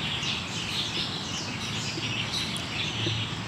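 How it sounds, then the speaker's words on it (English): Faint bird chirps in Daan Park, Taipei, over a constant wash of outdoor background noise, with no voices. "Can you guys hear the birds?"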